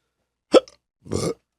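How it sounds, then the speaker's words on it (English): Two separate hiccups from a person, a sharp short one followed about half a second later by a longer, breathier one, close and fairly loud against silence. "It's not bad, but give me hiccups."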